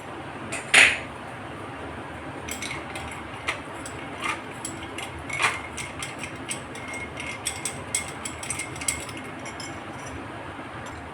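Ice cubes knock against a glass of sweet lime soda made with sugar syrup, giving a sharp clink followed by scattered light ticks and taps over a faint background hiss.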